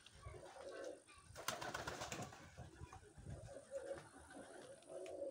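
Pigeons, including young birds in a loft, give soft low coos from close by, with a short flurry of rustling or flapping partway through and quiet shuffling around them.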